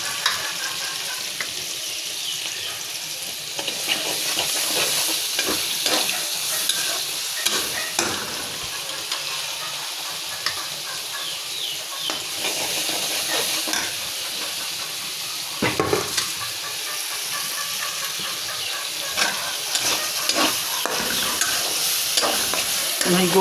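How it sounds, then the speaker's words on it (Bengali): Shrimp frying with green chillies and onions in a pan, continuous close sizzling with repeated spatula stirring and scraping against the metal throughout. "আমি এবার কাঁচামরিচ আর পেঁয়াজ দিয়ে দিব।"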